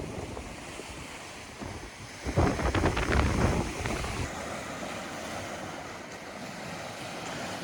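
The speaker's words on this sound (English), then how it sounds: "the waves, even 2 hours after high tide, smashing up over that rock" Ocean waves from a bomb cyclone crash heavily over rock two hours after high tide, swelling into a loud surge midway, then settling back into a steady roar of surf and wind.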